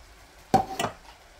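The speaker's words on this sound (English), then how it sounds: "I'm going to stir this together real quick until everything is, all the rice is kind of coated with that vinegar sausage juice mixture" A spoon or spatula scraping and stirring rice through sausage and apple cider vinegar in a pan, two quick close scrapes within half a second against a quiet background.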